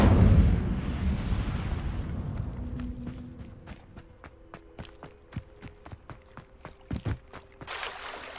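The Incendio fire spell in the video game Hogwarts Legacy erupts as a loud, roaring burst that fades over a couple of seconds. A steady run of crisp footsteps follows, with another small burst near the end.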